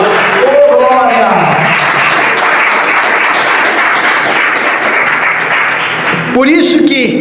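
A church congregation claps and applauds steadily during a worship service, a loud dense wash of hands with a voice rising over it near the start and again at the end.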